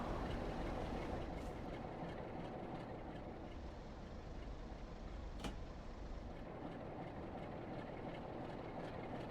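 A steady rumbling video game train on the Preston to Ormskirk line in Train Sim World 4, with faint rhythmic clacking on the rails, continuous and moderately loud, with no talking.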